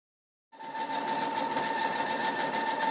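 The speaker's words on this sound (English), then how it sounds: "So I'm going to stitch all the rest of them" A computerized sewing machine starts up after a short silence and stitches at a steady, fast, even whir with a faint rhythmic ticking, close and clear, with no voices.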